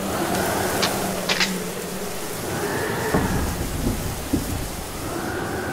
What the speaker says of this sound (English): Storm is a cyclonic wind of great intensity affecting dozens of kilometers of land and accompanied by a heavy rain.